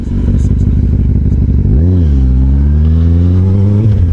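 A motorcycle heard from the rider's position, a loud continuous engine roar that drops in pitch and then climbs again as the bike accelerates, with wind rumble underneath.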